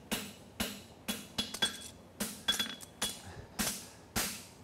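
A blacksmith hammers a horseshoe on an anvil's horn, giving about ten sharp metallic ringing strikes spaced roughly half a second apart, close and fairly quiet, with no talk.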